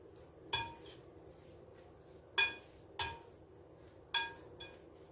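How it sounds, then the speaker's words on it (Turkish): A spoon clinks against a bowl while white cheese is mixed into a börek filling, giving five sharp, separate knocks spaced irregularly over a quiet background. "Şimdi bunu da güzelce karıştırdıktan sonra kenara alacağım."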